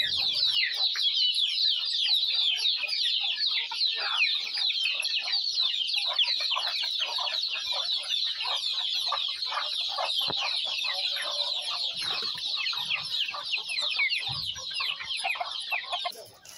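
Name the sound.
chickens clucking on a farm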